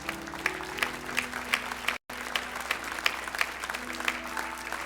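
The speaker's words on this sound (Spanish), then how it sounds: "Dale un aplauso fuerte al Señor" A church congregation claps together loudly and continuously, a dense roomful of hands sustained throughout with one brief dropout partway through.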